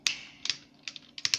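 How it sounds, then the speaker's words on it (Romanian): A computer keyboard clicks in a few sparse close taps during a game of Parkour, with brief pauses between the keystrokes. "O să se audă tastatura,"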